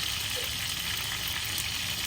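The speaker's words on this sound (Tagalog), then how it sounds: "si Mami ay nagpiprito ng isdang lamarang" Lamarang fish fries in a pan of hot oil, a steady, even sizzle with a soft hiss throughout and no voices.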